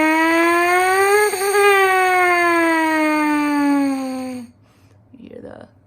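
A beginner buzzes on a trumpet mouthpiece in a siren-like exercise, producing a loud, sustained, reedy tone that wavers in pitch for about four seconds before cutting off, followed by a faint softer sound.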